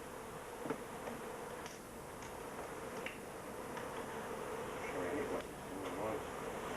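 A dense, steady buzz of many queenless package honeybees close by, with occasional faint clicks and knocks over the continuous drone.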